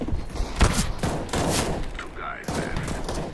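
Gunfire in Counter-Strike: Global Offensive, several sharp bursts of shots in quick succession, loud and close, mixed with a voice speaking over the action.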